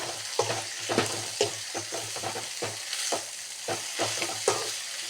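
Onion and eggplant frying in a pan for vangibath while being stirred: a steady close sizzle with regular scraping strokes of the spatula, roughly two per second, and no voices.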